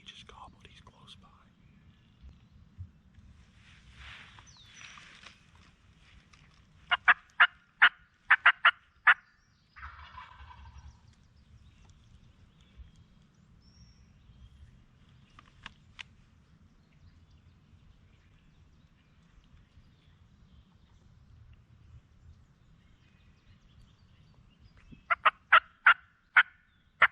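A wild turkey gobbles in spring woods in Ohio, with bursts of sharp, rattling gobbles heard at a distance several times, while a person whispers quietly close by between them.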